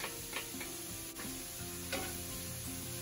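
Rice for Chinese fried rice sizzles in a pan with chopped garlic and grated ginger, a steady faint frying hiss with a few stirring clicks and scrapes.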